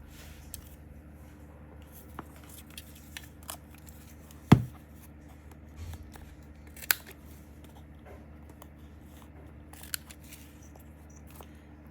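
Sparse, quiet scissor snips cutting book and magazine pages in a still room, with one sharper snip partway through and faint paper rustling between.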